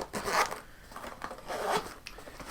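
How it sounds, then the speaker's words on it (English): A heavy-duty practice chanter case is unzipped in two long, rasping pulls, close and clear with a short pause between, no talking. "Let's go ahead and unzip."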